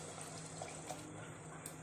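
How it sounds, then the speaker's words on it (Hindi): A glass of water is poured into a pot of corn soup, giving a soft, steady, continuous splashing pour that stays quiet and even throughout. "अब देखिए, मैं इसमें डाल देने वाली हूँ अपना 1 गिलास पानी।"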